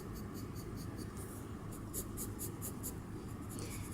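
A pencil scratches straight shading lines across paper in quick, evenly spaced strokes, soft and close with a faint background hiss.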